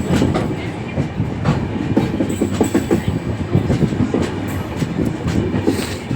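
A passenger train bound for Ahmedabad, a superfast service on the Mehsana to Surat line, rumbles past loud and close with a steady rhythmic clickety-clack of wheels over rail joints and no talk.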